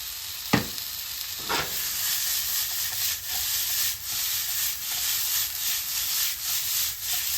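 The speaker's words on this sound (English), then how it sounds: "Now I am going to go ahead and add these mushrooms." Oyster mushrooms drop into a hot pan with fajita mix and are stirred, a sharp clatter followed by a continuous close sizzle with rhythmic scraping strokes of a utensil, no voices.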